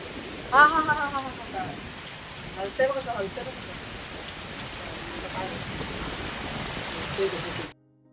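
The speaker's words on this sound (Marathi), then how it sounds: "संध्याकाळच्या वेळेस जोरदार म्हणजे मुसळधार पाऊस चालू होता आणि त्या पावसासोबत वारा सुद्धा" Steady heavy rain with wind hisses throughout on an evening in Konkan, with a few brief voice-like sounds near the start before the clip cuts off abruptly.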